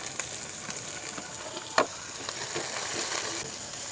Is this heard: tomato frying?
yes